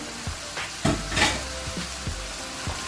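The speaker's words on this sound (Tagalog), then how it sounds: "We just add on our pork liver, yung ating atay." Pork liver dropped into a hot pan for Filipino pork menudo, sizzling steadily and close, with a few stirring scrapes and knocks over the frying hiss and no talking.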